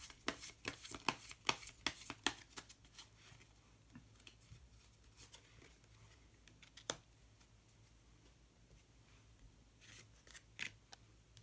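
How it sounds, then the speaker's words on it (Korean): Colour cards being shuffled and drawn by hand, a run of quick, faint papery flicks and snaps early on, then sparse soft clicks and taps in a quiet room, with no speech. "마지막으로 색깔로 알아보는 컬러 카드 한 장 더 뽑아보도록 하겠습니다."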